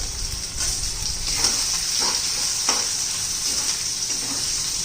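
Finely chopped onion sizzles in a pan with ginger-garlic paste, a steady bright hiss broken by several soft stirring scrapes at an unhurried pace, close and moderately loud, no talking.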